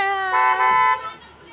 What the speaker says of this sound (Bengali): এই যে আখি আমাকে টাটা করে দিয়েছে আর ট্রেন হর্ন বাজিয়ে এবার ছুটে চলেছে